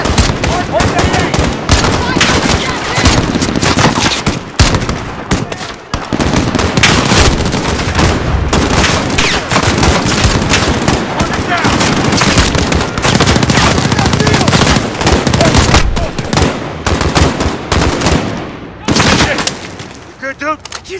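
Dense, loud automatic gunfire and single shots crackle almost nonstop in a Call of Duty: Modern Warfare (2019) campaign firefight, with brief gaps and shouted voices buried in the battle.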